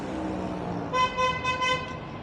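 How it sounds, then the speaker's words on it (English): A vehicle horn sounds in city traffic, four short bright honks in quick succession over a steady hum of road noise. "I don't know if that was the train or the bus honking or the car"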